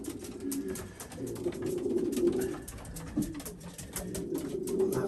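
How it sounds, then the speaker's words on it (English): Racing pigeons out of their loft coo in soft, repeated low throaty calls, several birds overlapping at close range with faint background rustle. "As you can see, all the pigeons are out of the loft now."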